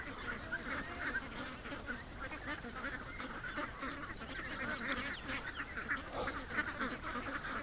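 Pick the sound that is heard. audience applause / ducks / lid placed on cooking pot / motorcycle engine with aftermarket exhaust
ducks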